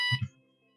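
A building alarm in a podcast studio sounds during its daily test, giving a loud electronic buzzing tone that cuts off abruptly after a fraction of a second and leaves a faint ringing tail.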